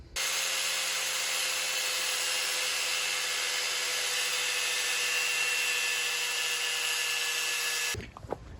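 A metal socket being cut down with a power tool to make a brake tool for a $500 Firebird: a loud, steady, close-up cutting whine runs unbroken for about eight seconds, then cuts off abruptly.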